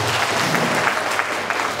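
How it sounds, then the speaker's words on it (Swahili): A crowd at a political rally in Bukombe claps together in a loud, dense, continuous burst of applause that keeps an even level throughout. "Jipigieni makofi kwa kuchagua vizuri"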